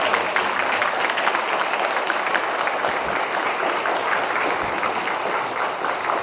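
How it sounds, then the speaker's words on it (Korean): A church congregation claps for the pastor and his wife, a loud, sustained and even burst of many hands filling the room for about six seconds. "오늘 목사님과 사모님께 한번 박수로 감사한 마음을 담아서"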